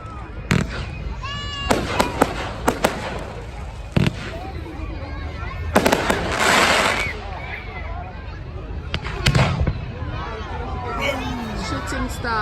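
Bonfire night fireworks go off in a series of sharp bangs and crackles, some near and loud, with whistling rockets and fizzing bursts, while a crowd chatters and people talk throughout.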